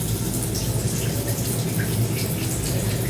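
Running water from a tap during a skincare routine, a steady, even broadband rush at moderate level throughout with no talk.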